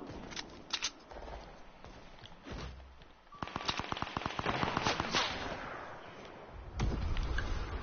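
Gunfire in a video game, with sharp single shots early on followed by a rapid series of cracks midway and a louder burst near the end, over steady background game noise.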